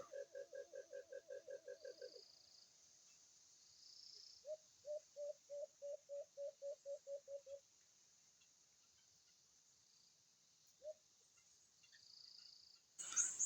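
Bursts of rapid repeated calls from an alimokon bird played through a speaker placed low on the ground outdoors, sounding faint and distant, with pauses between the bursts.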